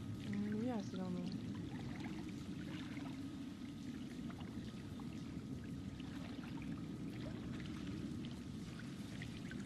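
Steady wash of running, pouring water in the horror video game Until Dawn, a continuous close rush with a faint trickling texture throughout, with a short tonal game sound near the start.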